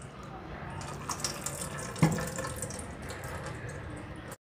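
Water pours steadily from a container during home preparation of an organic pesticide, a continuous splashing trickle with a brief louder splash midway before it cuts off.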